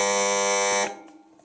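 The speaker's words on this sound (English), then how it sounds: "try this buzzer" An appliance buzzer on a cooker set to high heat sounds as a loud, steady electronic tone with rich harmonics, holding for almost a second and then cutting off, leaving faint room noise.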